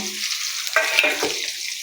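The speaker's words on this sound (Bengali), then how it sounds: "নাড়ার পরে আমি এই পেঁয়াজটা এই তেলটার মধ্যে আমি" Onion fries in hot oil while being stirred, a brief close sizzle with quick scraping stir strokes over under two seconds.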